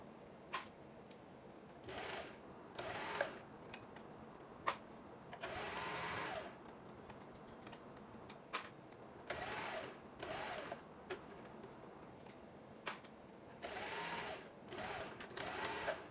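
A home sewing machine stitches Easter scrunchies in short bursts of whirring, several stop-start runs of a few seconds each with brief pauses and small clicks between, fairly quiet and close.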